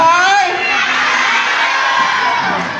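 A crowd of children shouts hello together in one loud, sustained burst at a Maulid celebration at an Islamic boarding school, a bright collective yell that holds for a couple of seconds.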